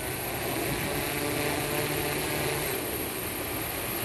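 Electric rotors of a SuperX drone spin up for liftoff, a steady whirring whine holding even and fairly loud throughout with no talk.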